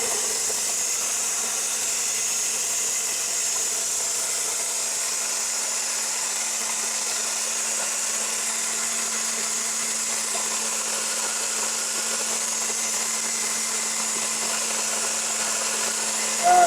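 A blender grinding ingredients into powder gives a steady motor drone with a constant low hum and broad high-pitched whir, running unbroken throughout at full speed.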